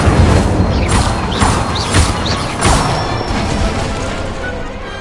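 A fire spell is cast in Hogwarts Legacy: a loud, whooshing burst of flame with crackling, rumbling texture. It swells and fades across several seconds, with a few brighter swooping tones over a dense low roar.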